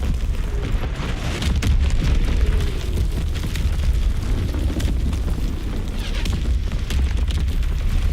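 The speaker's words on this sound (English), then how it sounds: "Incoming enemy artillery. Get to cover. Enemy bomb incoming." Enemy artillery explodes across the battlefield in Call of Duty WWII, a continuous rumble of deep booms and blasts with sharper cracks scattered through it, heavy and sustained throughout.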